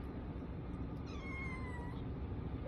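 A leash-trained cat outdoors gives a single drawn-out, plaintive meow that rises and then falls, heard fairly faintly over a steady background hiss of outdoor noise.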